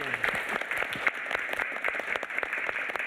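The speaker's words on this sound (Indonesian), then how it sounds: "Oke, tepuk tangan untuk 6." Audience applause on an Indonesian talk show, a steady moderate patter of many hands clapping throughout the few seconds.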